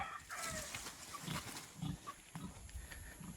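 A six-month-old pig on a farm grunts and oinks in several short, close bursts over steady outdoor background noise.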